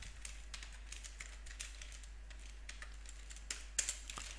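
Perl code being typed on a computer keyboard: quiet, quick clusters of key clicks over a steady low hum, close but faint, with a slightly louder burst near the end.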